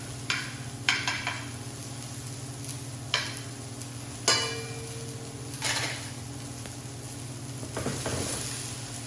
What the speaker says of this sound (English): I'm just going to break up this onion a little bit, okay? Spread it out in the pan, evenly cooking.